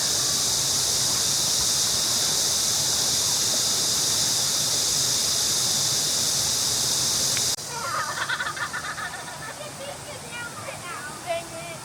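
Steady broadband rush of a flowing stream fills the scene, continuous and fairly loud, then eases and thins as other outdoor sounds come through near the end.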